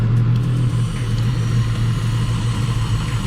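A car engine idles steadily with a low, continuous rumble while drawing in Seafoam cleaner through a vacuum line, close and unbroken, with no talk.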